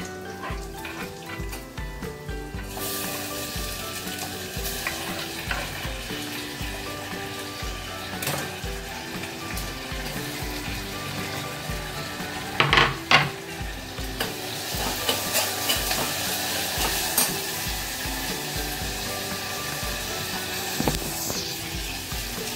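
Tomatoes go into a hot frying pan and set off a steady, loud sizzle that swells partway through, with a few sharp clatters and stirring scrapes over the continuous frying hiss, close by and with no voices.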